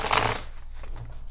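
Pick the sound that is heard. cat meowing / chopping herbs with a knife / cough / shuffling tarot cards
shuffling tarot cards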